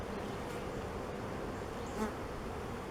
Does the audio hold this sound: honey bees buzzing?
yes